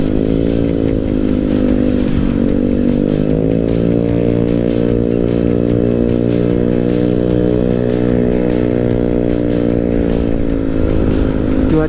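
A motorcycle with a loud, rough exhaust rides steadily along a touring route between Bandung and Tasikmalaya. Its engine drones close and continuously, with a slight pitch rise and fall as it accelerates and eases off.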